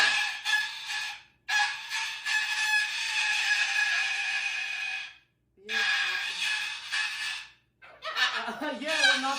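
A pet cockatoo gives loud, harsh, sustained screeches in three long bursts separated by short pauses. A final, more varied burst follows near the end.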